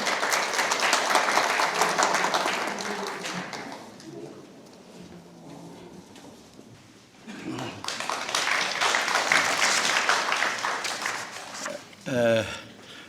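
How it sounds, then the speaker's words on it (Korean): Audience applause at a Korean independence-activist award ceremony, steady clapping for several seconds that thins out midway, then swells again before a voice cuts in near the end. "여러분들 박수 부탁드리겠습니다."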